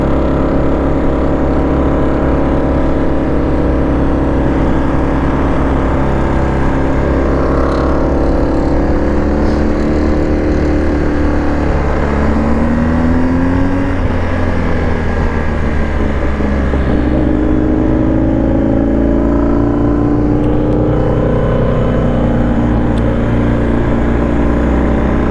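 BMW R1250 GS Adventure motorcycle from 2023 ridden in a low gear on a winding road, its boxer engine droning loud and close, rising and falling in pitch as it revs through bends, with heavy wind noise throughout.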